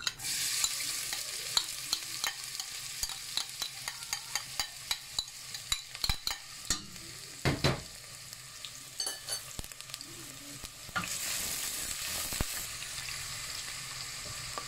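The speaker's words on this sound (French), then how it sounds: "On va mettre notre huile. Voilà. Donc, je vais envoyer mon oignon." Onion fries in hot oil in a pan while a spoon stirs it repeatedly, making a series of close scraping clicks over a constant crackling sizzle that swells louder near the end.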